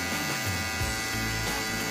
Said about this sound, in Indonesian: Ini menggunakan mesin trimmer ya,